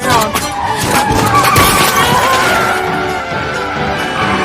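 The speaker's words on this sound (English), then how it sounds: "they are able to get rid of the truck because they are able to drift the car into another row" A car drifts past a truck in a Hawkeye television episode action scene, loud tire screech and engine roar with crashing impacts, a dense continuous burst of vehicle noise.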